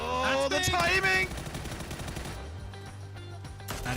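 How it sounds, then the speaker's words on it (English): Gunfire in the PUBG video game, rapid bursts of shots in a busy firefight, loud at first and then continuing under layered game noise. "A couple of gunshots."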